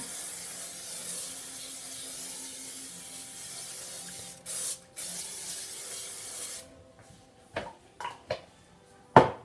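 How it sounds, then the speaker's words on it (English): A can hisses as Crisco butter cooking spray coats a pan, followed by a few short, sharp spritzes and light clinks of metal. "And then I have Crisco butter that I spray on."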